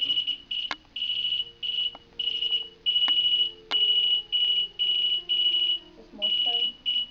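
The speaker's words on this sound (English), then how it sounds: "After the EMF alarm started sounding as though it was speaking in Morse code" An EMF meter alarm at a reportedly haunted manor beeps in an irregular on-off pattern like Morse code, a series of bursts of varying length, loud and near, with faint background noise and a few clicks.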